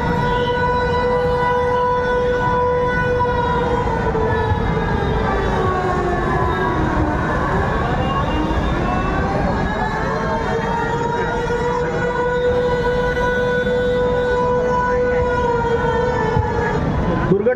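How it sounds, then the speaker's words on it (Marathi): A civil defence air raid siren sounding during an emergency demonstration drill at Talasari Naka, a loud sustained wailing tone that dips and rises in pitch, running steadily throughout with no pause. "असं या ठिकाणी सायरन वाजलेला आहे आपण पाहू शकता"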